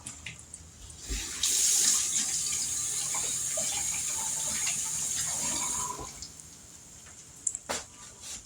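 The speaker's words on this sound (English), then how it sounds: "Let me wash my hands off." Kitchen faucet running into a sink for hand washing after cooking corn dogs, a steady moderate splashing stream for several seconds, then shut off, followed by a few drips and small clunks.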